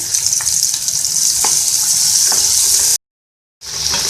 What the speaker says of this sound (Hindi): 1 सेकंड बस आपको इसको ऐसे फ्राई कर लेना है।